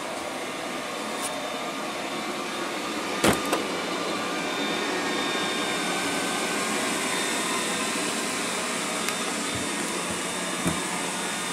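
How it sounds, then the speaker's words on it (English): Robot vacuum cleaner with strong 3000 Pa suction running on a floor, a steady loud whir and hum with a few faint clicks and knocks, no talking. "So there's no repeat vacuuming there."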